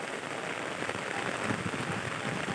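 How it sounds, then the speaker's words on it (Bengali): Heavy rain pours steadily onto a rooftop garden, a dense, even roar of drops with no break and no voices. "কী পারেন পরিমাণে বৃষ্টি হচ্ছে দেখুন"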